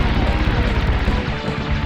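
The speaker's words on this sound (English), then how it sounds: "some planes just have a big massive explosion" A big, loud bomb explosion called in by a plane in a 2001-era PS1 shooter game, a dense crashing roar that fills the whole moment and dies away slightly toward the end.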